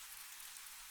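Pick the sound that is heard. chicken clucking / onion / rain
rain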